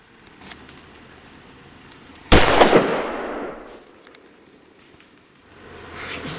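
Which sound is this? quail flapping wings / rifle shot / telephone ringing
rifle shot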